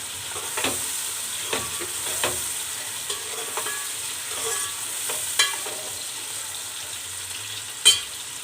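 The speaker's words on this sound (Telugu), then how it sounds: "ఇందులోనే కొద్ది కరివేపాకు అనేది వేస్తున్నాను." Curry leaves sizzle in hot oil for a cauliflower and potato curry, giving a soft steady hiss with light scattered crackles and one sharper pop near the end, no voices.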